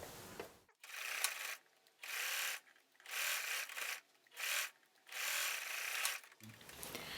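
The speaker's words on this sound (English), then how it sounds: "So now I'm going to sew the bottom." A sewing machine stitches along the bottom edge of a fabric face mask in five bursts of steady, rapid whirring, separated by short pauses, close and clear with no talking.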